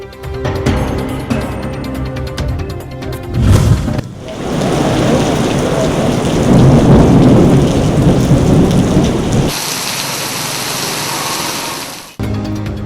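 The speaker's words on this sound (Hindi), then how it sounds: "गरजते बादल बरस पड़े" Heavy rain pours during a thunderstorm over Islamabad, with a loud, dense, steady roar and deep rumbling thunder, broken by a few abrupt shifts between scenes.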